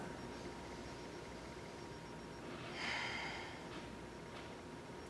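A single audible breath, a sharp nasal inhale like a soft snort, rises briefly out of a quiet hiss during a meditation.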